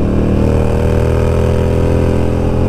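A Harley-Davidson Sportster Roadster XL1200CX motorcycle engine runs steadily and loudly up close, a continuous low throbbing rumble with no speech over it.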